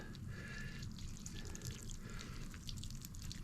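Water pours steadily over newly planted plants, a constant close splashing trickle with drips, running without pause and no talking.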